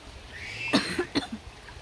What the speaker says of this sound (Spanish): Si escuchan a una persona toser acá en El Salvador